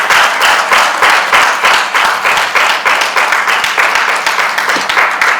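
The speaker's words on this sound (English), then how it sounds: "Very, very big round of applause." A crowd at a Mother's Day celebration for a mothers' milk bank breaks into loud, sustained clapping, dense and rhythmic with steady pulses of hands, near and continuous without speech.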